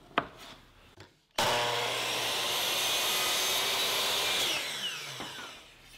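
A handsaw or power miter saw cuts a miter through wooden canvas stretcher molding in one loud, sustained pass of about three seconds, after a few faint taps and a brief silence, then fades out.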